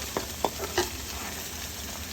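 Okra frying in a pan gives a soft, continuous sizzle with a few brief stirring taps near the start, fairly close and without talk.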